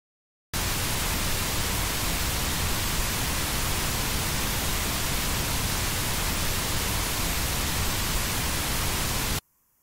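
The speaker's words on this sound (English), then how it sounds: "First up is a pink noise null test" A steady, broadband hiss of pink noise plays continuously and evenly for about nine seconds, then cuts off abruptly.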